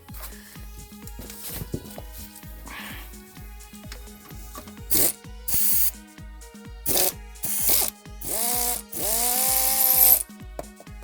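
A 3/4 inch nut and bolt on the stock bumper of a Jeep Wrangler JK is worked loose with a hand tool, giving steady ratcheting clicks and then longer rasping bursts up close.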